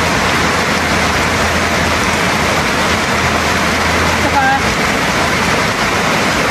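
Heavy rain pours in a constant, dense roar of falling water during flooding, loud and unbroken throughout, with a voice speaking briefly over it.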